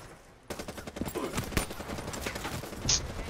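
Gunfire erupts abruptly in a multiplayer gun game, a loud dense run of shots with sharp cracks scattered through it, continuing to the end.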